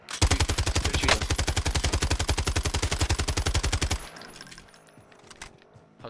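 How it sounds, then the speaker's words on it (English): Rapid automatic gunfire from Call of Duty: Modern Warfare, a loud, steady burst of fast shots for about four seconds that stops abruptly, leaving faint clicks and low background game noise. "They're shooting."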